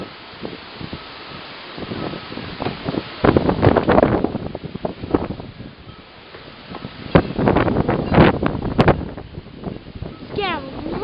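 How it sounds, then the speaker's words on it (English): Strong, gusty wind sweeps through a camp ahead of a thunderstorm, rising and falling in rushing bursts with rustling, buffeting the microphone, while voices can be heard faintly. "It's getting really windy now. Wicked windy."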